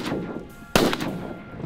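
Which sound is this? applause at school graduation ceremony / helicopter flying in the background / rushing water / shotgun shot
shotgun shot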